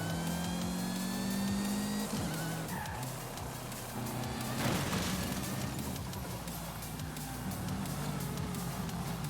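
Car engines in a racing video game featuring Lancia cars, a continuous droning roar with rising and falling revs and shifting engine pitches, loud and steady throughout with no talking.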